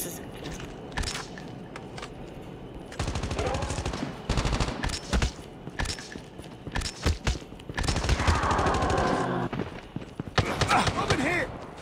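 Gunfire in the mobile shooter game Call of Duty Mobile, with sustained automatic bursts and scattered single shots, loud and near, alongside footsteps and a talking voice in places.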